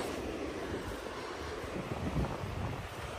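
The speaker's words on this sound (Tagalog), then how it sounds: "Kinig na kinig yung alon." Steady roar of surf and gusting wind blowing across the microphone, a continuous broadband rush with low rumbling swells, no voices.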